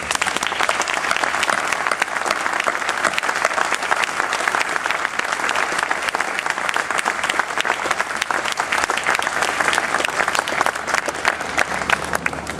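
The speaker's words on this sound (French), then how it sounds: "des applaudissements." A large crowd at the opening ceremony of a Walloon town festival gives a sustained round of applause in tribute, dense and even clapping continuing for the whole stretch without pause.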